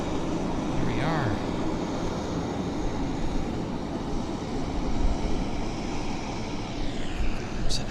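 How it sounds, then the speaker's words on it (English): A WestJet Q400 turboprop airliner taxis at Vancouver Airport, its steady engine drone holding throughout with a brief tonal whine rising early on and a faint higher whistle near the end. "we've got a Westjet Q400 taxiing on to the active"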